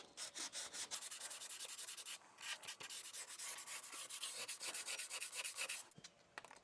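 Light hand sanding of wood on a model ship, the HMS Thorn, heard as close, steady rhythmic rasping strokes with brief pauses, no talking.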